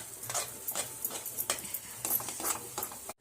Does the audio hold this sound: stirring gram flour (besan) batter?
yes